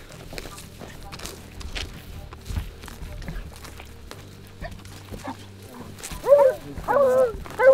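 Hunting dogs bark and whimper during a jackal hunt outdoors, with scattered yelps and a burst of louder barking near the end, mixed with people talking and footsteps.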